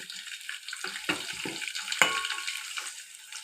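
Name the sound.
rice frying in ghee in a pan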